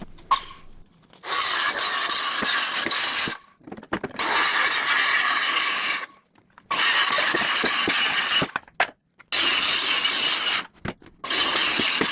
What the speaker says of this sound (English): So today I need to cut up these pellets into firewood.